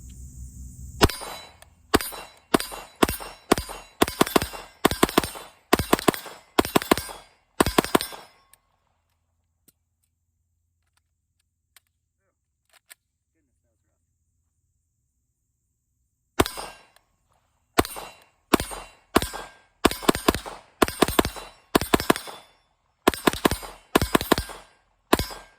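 An MP5 fitted with a Geissele SD3G trigger fires two 20-round magazines in two bursts of sharp, closely spaced shots, with a quiet pause between them for the magazine change.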